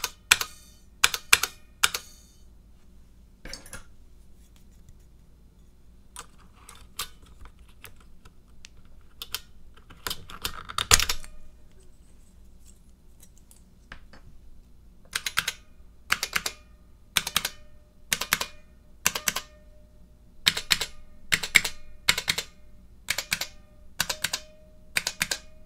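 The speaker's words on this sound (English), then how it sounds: "I recommend ordering extra springs and the first aid kit if you are as sensitive as I am to the sound of your keyboard." Keys clack on a Model F buckling spring keyboard in sharp, crisp bursts, first scattered single presses, then quicker runs of typing, close up in a quiet room.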